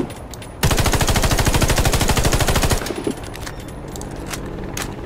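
A loud, rapid machine gun burst in the shooter game Warface rattles for about two seconds, then gives way to quieter in-game ambience and a few faint clicks.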